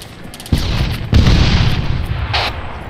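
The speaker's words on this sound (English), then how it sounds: "Sounds like auto cannon fire." Heavy gunfire in the military video game ARMA 3, with loud booming shots and rolling reports from an auto cannon firing in a few bursts.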